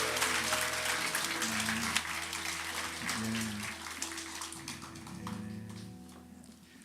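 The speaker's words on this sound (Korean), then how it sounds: "우리 다시 한번 뜨거운 박수로 축복하겠습니다" Congregation clapping during a Korean church pastor installation and farewell service, a steady wash of applause mixed with sustained organ or keyboard chords and some voices underneath, fading gradually toward the end.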